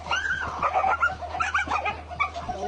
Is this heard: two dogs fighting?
yes